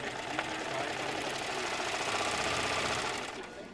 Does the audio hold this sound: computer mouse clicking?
no